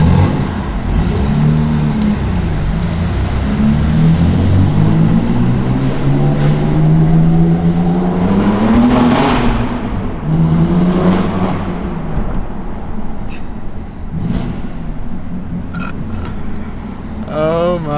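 BMW F80 M3 fitted with high-flow downpipes, its exhaust rising and falling through loud rev sweeps close by, with a deep droning tone that climbs and drops.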